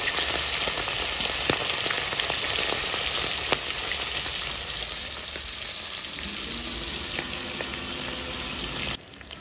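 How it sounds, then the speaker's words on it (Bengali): Fish sizzling steadily in hot oil in a home kitchen, a dense continuous crackle with scattered sharp pops, close and fairly loud, running almost unbroken before cutting off near the end. "কমপ্লিট মাছ ভাজা হয়ে গেছে"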